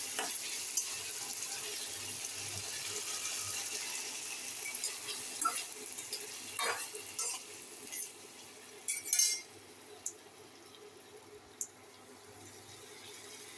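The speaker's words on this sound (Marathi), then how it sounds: "थोडं हलवायचं." Soybean chilli sizzles softly in a pan while a utensil stirs it, with faint scraping and occasional light clinks of metal against the pan over a steady low frying hiss.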